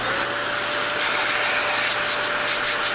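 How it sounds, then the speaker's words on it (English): Steady, loud vacuum-cleaner whine with a constant tonal hum runs unbroken as a vacuum sucks metal flakes out of a McIntosh MC 2105 amplifier chassis during restoration, close and alone without talk. "I'm just going to vacuum that out before we go much further."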